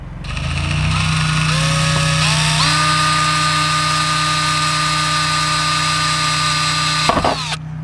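A small 1/16 inch bit drills a hole in a garage door for a mail slot, with a steady, loud, high-pitched whine running for about seven seconds that rises slightly in pitch before stopping abruptly.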